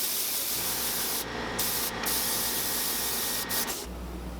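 An aerosol spray hisses loudly in close bursts as a white base coat goes onto a fishing bait, with a few short pauses between passes and a final stop near the end.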